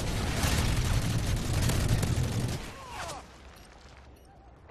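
Explosions and heavy booms from a missile strike in Call of Duty Modern Warfare 3 online multiplayer, dense and loud for about two and a half seconds before dropping to quieter ambience with faint whistling tones.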